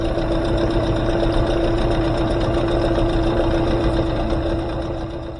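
A dinghy's outboard engine runs at a steady idle after starting, a loud continuous close-up drone with a faint rhythmic knock, easing off slightly near the end.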